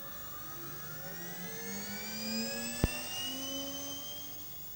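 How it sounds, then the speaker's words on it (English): Small electric motor spinning a double-sided mirror at variable speed, a steady whirring tone that slowly rises in pitch as it speeds up, with one brief sharp click midway; faint and alone. "It's a small double-sided mirror which can rotate, driven by an electric motor underneath."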